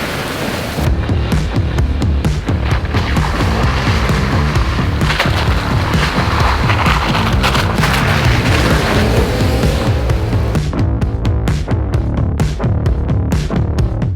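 Jeep Wrangler JL on new wheels churning through mud, a loud, dense roar of engine and spraying muck splattering the body, continuous and close for most of the stretch.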